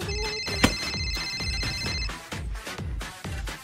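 A phone ringing for an outgoing call, with rapid repeated tonal pulses and a steady high electronic tone, close and fairly loud, with a music-like rhythmic pattern underneath and no talking.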